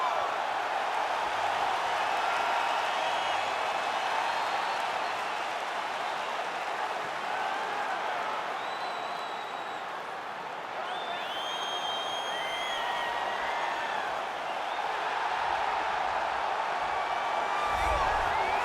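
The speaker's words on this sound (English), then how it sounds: "Crowd going crazy." Arena crowd in the UFC 4 fighting game roars and cheers steadily through a women's bantamweight title fight walkout, a dense continuous wash of noise with scattered whistles and whoops rising near the end.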